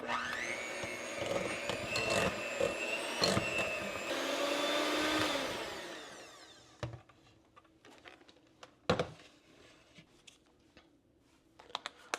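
An electric hand mixer with beaters whirs through cheesecake filling as vanilla is blended in, a loud, steady motor whine that rises slightly and then cuts off about halfway, followed by scattered taps and clinks of the bowl and utensils.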